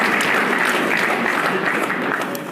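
An audience applauds in a salute to Field Marshal Yakubu Gowon: sustained, dense clapping from a crowd that holds steady and loud throughout.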